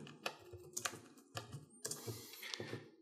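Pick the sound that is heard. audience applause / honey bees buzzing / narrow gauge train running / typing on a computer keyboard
typing on a computer keyboard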